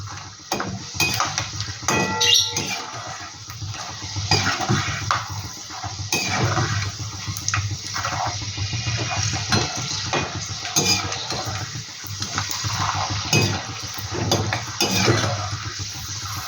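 Pasta with fried nuts is stirred together in a pan, giving close, irregular scraping and clinking of a utensil against metal with a soft sizzle, sustained throughout with no talking.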